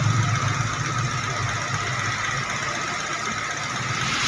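A Mazda 2 engine runs close by with a steady mechanical hum and faint ticking vibration, holding a fairly even level without a clear rev climb; no one speaks.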